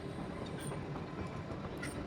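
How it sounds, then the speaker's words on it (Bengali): The Him Darshan Express, a Shimla–Kalka toy train, enters platform 6 at Kalka station with a continuous low rumble of wheels and carriages and faint high squeals from the rails. "কালকার 6 নম্বর প্ল্যাটফর্মে আমাদের ট্রেন ঢুকছে।"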